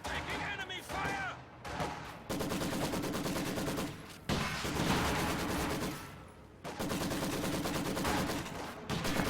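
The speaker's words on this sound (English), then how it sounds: "Taking enemy fire!" Bursts of enemy machine gun fire in a WWII video game battle, loud rapid volleys with short gaps between them, continuous and dense, with voices partly underneath.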